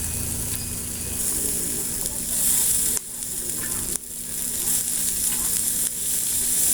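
Spicy chicken sizzles steadily on a grill, a loud continuous frying hiss broken by brief dips as pieces are flipped, with no talking.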